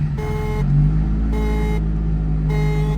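A fuel-injected 1978 Datsun 280Z engine catches and settles into a steady, smooth idle, its low hum continuous and close, with a recurring warning chime sounding in the cabin.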